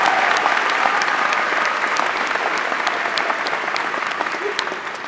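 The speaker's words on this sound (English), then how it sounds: "Let's give them a round of applause" A large crowd applauding first-generation graduates at a university spring commencement ceremony, dense sustained clapping that fills the hall evenly and fades slightly toward the end.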